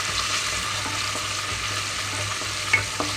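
Ginger garlic paste frying in oil over a medium flame for bagara rice, a dense continuous sizzle up close with a couple of light stirring knocks near the end.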